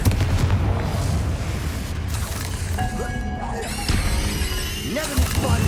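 Booming Confringo spell blasts from Hogwarts Legacy crash and rumble continuously through busy combat, with a voice shouting spell names over the chaotic, dense explosions.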